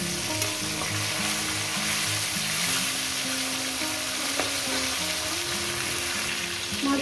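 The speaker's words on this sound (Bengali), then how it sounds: "বাকি মাছগুলো আমি দিয়ে দিচ্ছি, এগুলো ভেজে নিচ্ছি" Laylon tilapia fish pieces fry in oil with a steady, even crackling sizzle throughout, close and moderately loud, with faint background hum and no speech.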